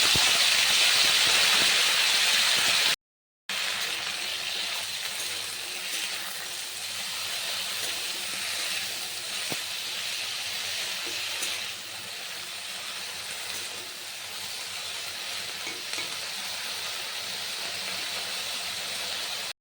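Potato, cauliflower and tomato tossed into hot oil with panch phoron and dried chilli, setting off a loud burst of sizzling that settles into a steady, slightly quieter frying hiss after a brief gap.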